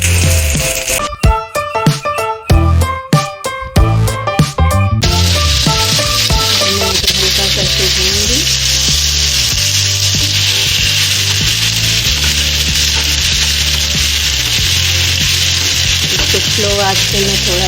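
Onion and potato fry in a pan for a pumpkin sabji, a loud, continuous close sizzle. Irregular chopping or scraping knocks come in over it during the first few seconds.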